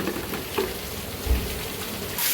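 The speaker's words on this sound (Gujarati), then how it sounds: "હાલો વરસાદ ચાલુ થઈ ગયો છે." Steady rain falls outdoors on a monsoon day, a constant close hiss with a few soft knocks and no voices.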